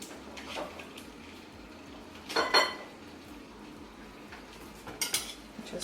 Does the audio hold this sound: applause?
no